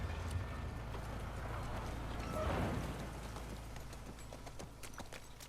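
A horse's hooves clip-clop steadily on the ground in a French adventure episode, a continuous mid-distance rhythm over a rushing, rain-like background.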